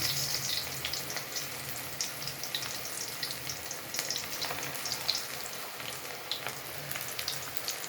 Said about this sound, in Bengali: তেলটা খুব গরম হয়ে গেছে।